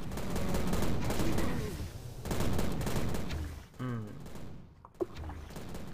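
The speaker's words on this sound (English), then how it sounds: "Stop dodging every time I fire a grenade, damn you." Grenades fired in the Prey shooter game burst amid dense, chaotic combat noise, with thick crackling blasts, a warbling creature-like cry and a sharp pop near the end.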